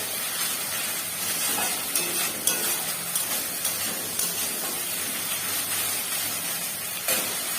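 Masala spice paste, being prepared for a katla fish curry, fries in a pan with a steady, close hiss and sizzle, spattering lightly and evenly throughout with no talking.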